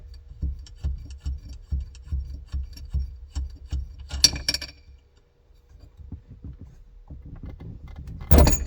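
A nut is spun off the inner steering hub of a Porsche 944, giving rapid, rhythmic metallic rubbing and rasping clicks up close, followed by a pause, a brief jangle and then a sharper clatter at the end, with no talk.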